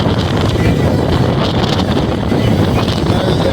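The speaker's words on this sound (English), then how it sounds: "And it's so windy" Strong wind roars and buffets loudly against the microphone without pause on the bow of a Chicago River cruise boat, with water rushing and splashing underneath.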